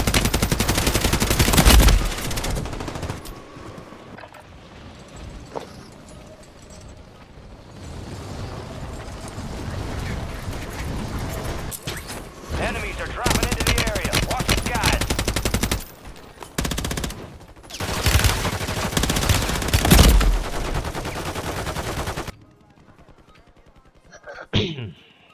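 Warzone video game gunfire, with long stretches of rapid automatic fire and heavy bursts, near and loud, broken by brief pauses and fading at the end, with a voice talking over it.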